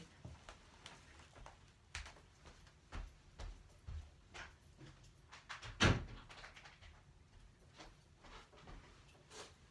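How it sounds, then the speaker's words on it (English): A single sharp door thud stands out midway, set against a quiet room with scattered small knocks and shuffling before and after. "I just want to shut the door here"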